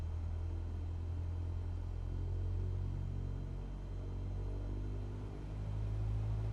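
Cessna piston engine at high power during a run-up with the brakes held, in Microsoft Flight Simulator: a steady, loud, droning engine hum that holds nearly constant throughout, with no voices.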